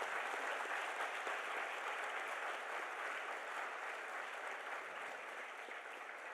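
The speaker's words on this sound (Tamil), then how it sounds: "இங்கே இருக்கக்கூடிய அத்தனை சாதனையாளர்களுக்கும் ஒரு பெரிய கைத்தட்டு." An audience at a felicitation function applauds award winners, a dense, continuous wash of many hands clapping, steady and fairly distant, with no speech over it.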